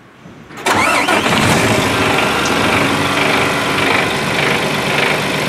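A truck's engine is cranked briefly by the starter, then catches and settles into a loud, steady idle close by, with no talking.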